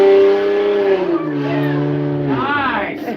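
A car drives past loudly with tires skidding and squealing. A sustained whining engine tone glides in pitch, followed by a short wavering squeal near the end, close and prominent.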